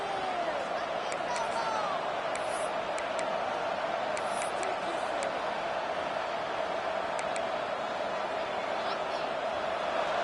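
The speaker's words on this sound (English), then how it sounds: "And this big crowd doing everything possible to inspire this defense down here near the goal line." A broad stadium crowd roar rolls on continuously in College Football 26 near the goal line, with a game commentator talking over it the whole time.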